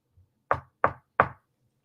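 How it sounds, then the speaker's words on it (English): Three sharp knocks on a surface sound in quick, even succession, close and clear against near silence. "they do 3 knocks"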